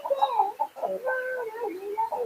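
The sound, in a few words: fighting chickens clucking on a Lao farm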